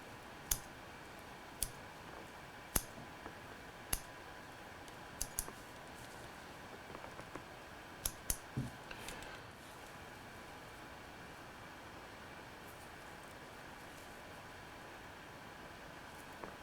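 Sharp scissor snips trimming deer hair on a fly tied for a deer hair mouse, heard as a dozen or so faint, irregular clicks spread over a quiet, hissy room background with no talk.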